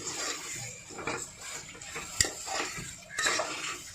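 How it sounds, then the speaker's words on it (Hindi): Chicken being mixed into pulao in a pot, with quiet clinks and scrapes of a utensil against the metal, one sharper knock midway, over faint background hiss. "अब हम चिकन को अच्छे से इसके अंदर मिक्स कर लेंगे"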